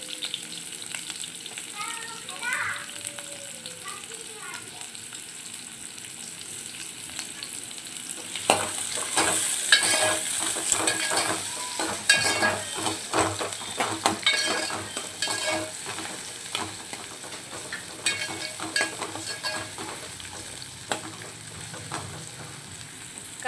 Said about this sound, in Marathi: पातेल्यामध्ये आपण तेल टाकून कांदा टाकलेला आहे